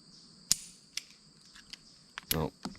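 Revolver hammer falling single action on a hard primer in a misfire: several sharp, dry metallic clicks and snaps spaced apart, close and quiet with no shot following.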